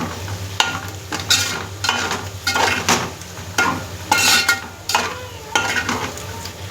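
Potatoes sizzling and frying in a pan with a spoonful of chili powder stirred in, steady crackle under repeated scraping strokes of a spoon against the pan, close and fairly loud, no voices.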